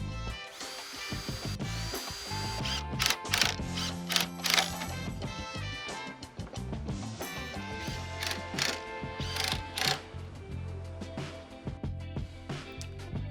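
A power drill drives trim head screws into wooden boards for a backyard outdoor shower privacy fence, giving repeated whirring bursts with bumps and knocks between them, close and fairly loud.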